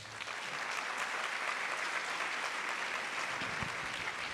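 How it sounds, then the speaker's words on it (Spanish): An audience at a book fair talk claps together in a steady, dense round of applause that holds evenly throughout, filling the hall without any speech over it. "pido que le regalemos un aplauso antes de comenzar"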